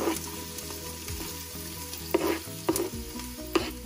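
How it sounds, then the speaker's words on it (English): Chopped onions sauté in oil in an Instant Pot on saute mode, giving a continuous sizzle with a few sharp stirring scrapes over background music. "So now I am just sauteing the onions"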